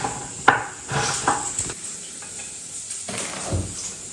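Avocado being mashed for tacos in a home kitchen, giving a few soft, wet thuds and scrapes of utensil against bowl, close and moderately loud with no talking.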